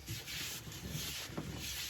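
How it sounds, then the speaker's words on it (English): Sandpaper rubbing against a spinning wooden bowl on a woodturning lathe, a steady close scratchy hiss with slight rhythmic surges as the paper moves across the surface. "I'll let you watch the first few bits of sanding"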